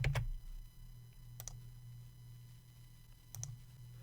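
Quiet computer mouse clicks, a few crisp isolated taps spaced a second or two apart over a low steady hum of room or machine noise, no voices.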